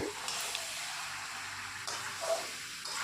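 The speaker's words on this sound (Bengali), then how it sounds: "এবার একটু খুন্তি দিয়ে ভালো করে কষিয়ে নেব" Marinated mutton stir-fried in a pan with a spatula makes a soft, steady sizzle and hiss with faint bursts of scraping and stirring, quiet and close, without talk.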